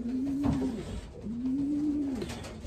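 A racing pigeon hen coos twice, each a low drawn-out throaty call close to the microphone, separated by a short pause with faint background noise.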